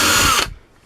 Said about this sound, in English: I have to step drill one more up